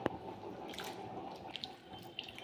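Greens are rinsed under running tap water, a faint, steady trickle with a few small splashes and drips as the leaves are handled.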